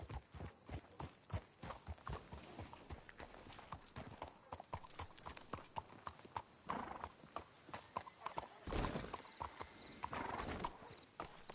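Horse hooves clip-clop steadily in Red Dead Redemption 2, a dense run of close, rhythmic hoofbeats with a brief whinny partway through and some voices over the top.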